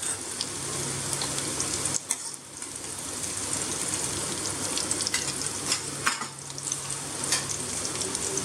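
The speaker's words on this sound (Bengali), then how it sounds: "দেখো পেঁয়াজটা খুব ভালোভাবে ভাজা হয়ে গেছে" Onions fry in a pan with a dense, steady sizzle close by, crackling throughout with occasional stirring and no talking.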